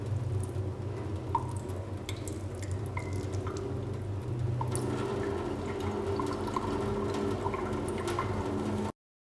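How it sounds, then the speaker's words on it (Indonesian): A stained microscope slide is rinsed under running water, with a light, continuous trickle and intermittent drips spattering close by at low volume, ending abruptly. "Setelah 5 menit kita cuci di bawah air mengalir sampai tetesannya tidak berwarna lagi atau bening."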